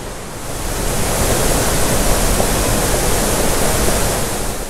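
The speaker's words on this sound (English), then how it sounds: "I don't know if you'll be able to hear me over the waterfall." Waterfall at the end of a cold creek hike, roaring as a loud, constant broadband rush that swells slightly and then eases, with no speech over it.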